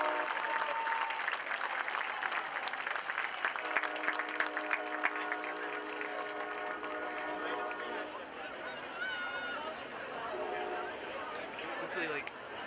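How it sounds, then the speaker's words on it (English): A crowd at a high school football game applauds the senior players, broad clapping and cheering mixed with crowd babble and some music-like tones, with voices audible throughout. "Our seniors, please give them one final round of applause."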